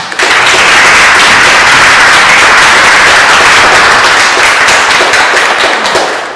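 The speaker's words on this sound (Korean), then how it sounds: "다시 한번 세바스티안 베르트랑 교수님께 큰 박수를 부탁드립니다" Sustained, dense applause from a seminar audience for a visiting professor, loud and close, many hands clapping steadily throughout before tapering slightly at the end.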